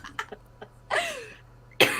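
A single short human cough comes through close and fairly loud, with a vocal sound before it and a sharp burst near the end.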